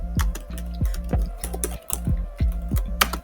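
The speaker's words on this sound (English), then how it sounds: "I'm gonna go to the text box and we're just gonna type in" Quick, irregular clicks of fingers typing on a computer keyboard into a text box, close and crisp with short pauses between bursts of keystrokes.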